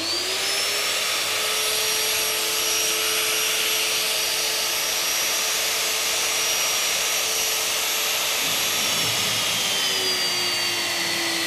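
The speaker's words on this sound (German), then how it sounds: "Magnet einschalten und vor allen Dingen auch den Motor." Alfra Rotabest magnetic core drill motor running steadily at a constant high-pitched whine, loud and continuous throughout with a faint drop near the end, no voices.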